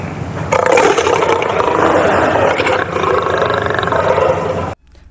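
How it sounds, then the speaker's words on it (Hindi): Lion roaring in a forest as a story sound effect: a single loud, sustained, rough roar lasting several seconds, close and dramatic, ending abruptly. "तभी उन्हें एक शेर के दहाड़ने की आवाज़ सुनाई देती है"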